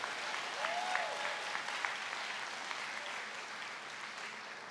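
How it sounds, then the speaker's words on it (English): Audience applause fills a large hall after a political speech about voting access, a steady wash of many hands clapping at moderate distance, with a few faint voices and whistles mixed in, holding throughout before easing slightly. "I'll take the applause on that one"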